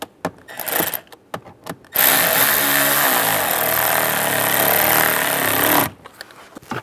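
A power tool tightens screws on a 2007-2013 Chevy Silverado interior panel, with short clicking blips followed by a loud, steady four-second run of close-up whirring that stops abruptly.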